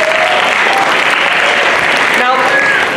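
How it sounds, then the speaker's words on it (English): Applause from an audience at a live science show, a steady dense wash of clapping filling the whole stretch at close, loud level, with a few cheers or voices mixed in near the end. "I'll give her a round of applause."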